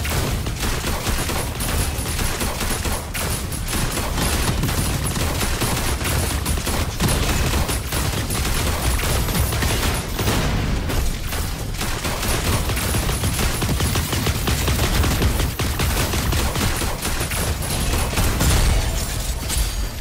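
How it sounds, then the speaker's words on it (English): Fireworks in the video game Super Mecha Champions, a dense, continuous crackle of rapid bursts and pops, loud and sustained throughout with no talk. "Oh, we got fireworks."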